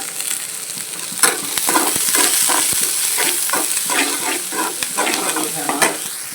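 Dried red chillies and lightly crushed garlic frying in hot oil, giving a loud, continuous close-up sizzle with repeated rhythmic scrapes of a spoon stirring through the pan.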